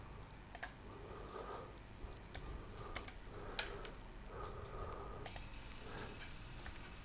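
Computer keyboard keys and a mouse being clicked while drawing in Autodesk Inventor, quiet, close taps in short irregular bursts over a faint room background.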